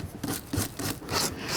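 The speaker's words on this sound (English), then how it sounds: "you're basically just taking the sandpaper and scuffing the surface of the paint" Sandpaper scuffed back and forth across the painted surface of an old wooden side table, a steady rasping rub in short strokes, close and fairly loud with no talking.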